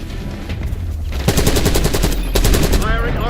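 Rapid automatic gunfire from the Archangel weapon in Robocop Rogue City, a loud sustained burst of evenly spaced shots that builds after a brief lull and runs to the end.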